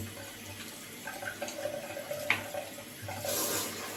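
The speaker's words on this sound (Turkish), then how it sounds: "Evet arkadaşlar yine fırçamla kabımı yıkıyorum." A shaving bowl scrubbed with a brush under a running tap during a traditional holiday shave, water pouring steadily with soft scraping and splashing, close and fairly quiet.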